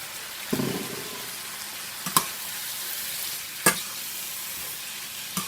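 Saltfish hits a hot pan with a soft, steady sizzle, punctuated by a few sharp clinks and scrapes of a utensil at intervals, close and fairly quiet.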